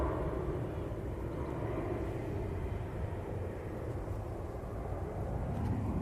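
An Emirates airliner passing, a broad continuous jet engine roar, steady and moderately loud for the whole stretch with no voices over it.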